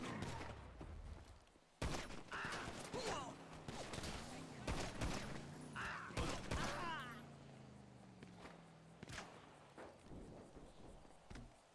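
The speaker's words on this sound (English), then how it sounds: "looks like individuals were shooting at locals" Scattered gunshots ring out in the NoPixel GTA roleplay video game as locals are shot at, sharp cracks punctuating a busy scene with people talking and shouting over them.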